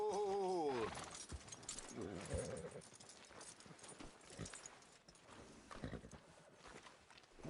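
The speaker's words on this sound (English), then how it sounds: "Are you gonna mount that new horse of yours or not?" Horse hooves clip-clopping in Red Dead Redemption II, a faint, uneven run of soft thuds with a brief whinny-like cry at the start, mixed with quiet background murmur.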